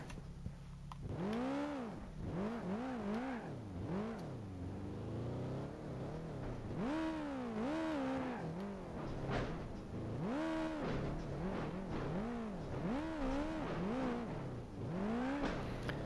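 A Mitsubishi Evo engine drones and revs while driving over desert terrain in BeamNG.Drive, pitch rising and falling in repeated swells, steady and fairly close.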